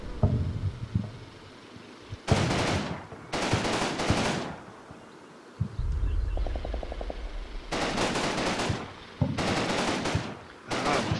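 Machine gun fire in the WWII Normandy strategy game Combat Mission Battle for Normandy, several loud sustained bursts of rapid automatic fire separated by quieter pauses, close and dominant.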